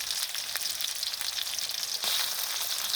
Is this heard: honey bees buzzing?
no